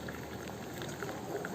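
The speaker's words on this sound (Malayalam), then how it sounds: "അപ്പോൾ നമ്മുടെ ചായ തിളച്ച് വന്നു" Tea simmering in a pot on the stove for iced lemon tea, giving a steady close bubbling hiss with small scattered pops throughout and no voices.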